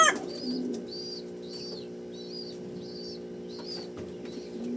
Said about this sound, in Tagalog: Ang laking ibon dito ni Pingas.